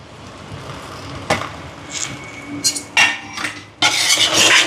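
Paneer and onions are stirred and sautéed in a pan for Jaffna-style paneer kurma, with a soft sizzle under several sharp clinks and scrapes of a utensil against the pan.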